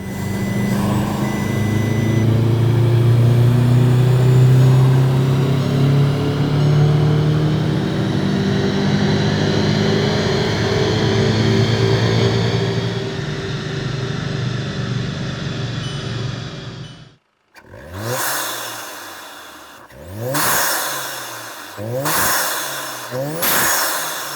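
A VW Golf GTI Mk7 with an EA888 engine and Ramair intake runs on a dyno: a loud, sustained, steadily climbing pull lasting about seventeen seconds, then an abrupt cut followed by several short, sharp revving blips.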